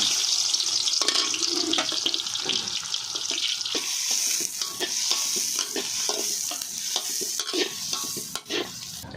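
Onions hit hot pure mustard oil in a pan for a banana blossom bhaji with sesame, giving a bright, steady sizzle and spitting, broken up by frequent scraping stirs and clicks of a utensil, close by and with no talking.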